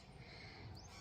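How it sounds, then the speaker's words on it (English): Birds call faintly in the distance from a backyard mulberry tree where blackbirds feed on the fruit, a brief cry over a dense, steady outdoor background hiss. "I'm sure you can hear the chirping in the background."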